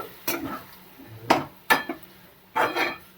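A spoon stirring masala curry in a pot gives four or five sharp scraping clinks against the metal at uneven intervals, close and fairly loud, with no talk.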